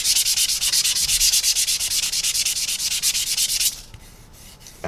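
Rapid back-and-forth rasping of a sanding sponge on the filled windows of a 1/144 Zvezda Boeing 787-9 plastic model airplane, close and steady strokes that stop abruptly near the end, leaving quiet.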